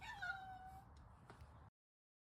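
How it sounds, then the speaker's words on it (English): A house cat lets out a single drawn-out meow, close and clear, that falls off abruptly into silence. "That cat just said hello."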